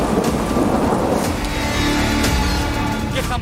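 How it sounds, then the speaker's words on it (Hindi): Strong sea waves and rushing water during Cyclone Biparjoy make a loud, steady roar with continuous broadband wash, very close and unbroken. "ये देख सकते हैं हमारे साथ कि कितना तेज पानी है।"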